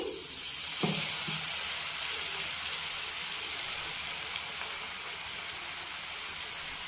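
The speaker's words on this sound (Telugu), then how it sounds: "ఇక్కడైతే ఆయిల్ వేడెక్కిందండి ఇంకా అన్ని వేసేసుకుంటున్నాను" Potatoes dropped into hot oil set off a loud, dense sizzle with a few sharp splashes near the start, then a steady bubbling fry that continues close by without any voices.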